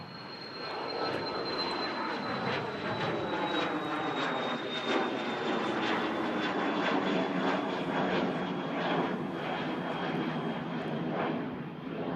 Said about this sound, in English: Heading out to Berlin, this NetJets Cessna Citation XLS. Wow, already taken off.